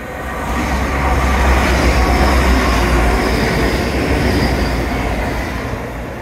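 A train rumbles steadily past up close along the Teignmouth seawall, a loud continuous roar with rattling wheels that swells and then slowly fades.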